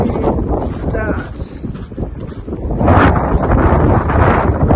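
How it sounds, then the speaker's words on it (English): Strong wind at Uluru buffets the microphone in loud, gusty rumbles, swelling in the second half, with faint rustling in the background. "it's actually a little bit windy"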